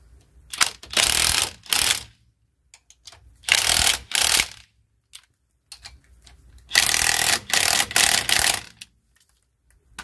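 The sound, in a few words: ratchet wrench torquing a bolt on a 1977 Trans Am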